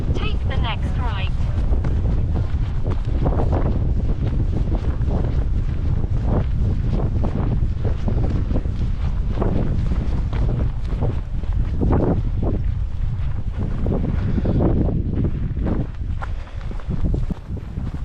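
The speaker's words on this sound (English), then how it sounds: "It's windy, isn't it?" Strong wind buffets the microphone during a countryside dog walk along woodland trails and rural paths, a loud continuous rumble and gusting roar throughout, with footsteps and a voice occasionally heard beneath it.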